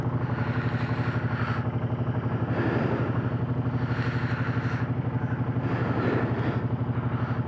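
A Suzuki M50 motorcycle engine idles steadily nearby, a loud, even, pulsing throb with a faint mechanical clatter and no talking.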